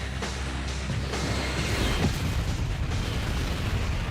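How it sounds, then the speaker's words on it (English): KLM Boeing 747 colliding with an American jumbo jet on a runway, a dense, loud roaring crash that stays thick and rumbling throughout, with a sharper impact swell near the middle. "The KLM smashes into the American jumbo at 290 kilometers per hour"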